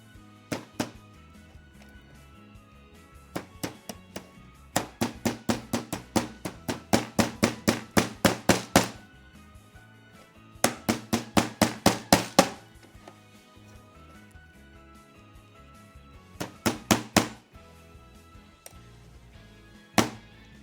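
A hammer strikes repeatedly while a chat-controlled pinball machine is being built, with sharp knocks in bursts of rapid, steady blows separated by short pauses, loud and close.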